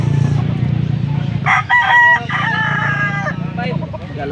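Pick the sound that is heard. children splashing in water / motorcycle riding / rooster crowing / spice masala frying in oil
rooster crowing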